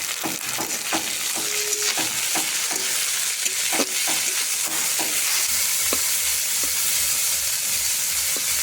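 Whole garlic, green and dried chilies, coriander leaves and pumpkin leaves fry together in a pan, a constant close sizzle broken by repeated sharp scrapes and knocks of stirring, thinning out in the last few seconds.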